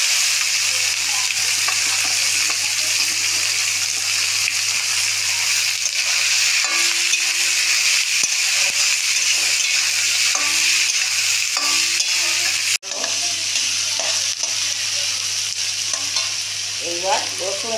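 Chopped onion frying and being stirred in a pan after whole cumin, cinnamon, cloves and cardamom were tempered in the oil, making a steady loud sizzle with spatula scrapes throughout and a brief break near the end.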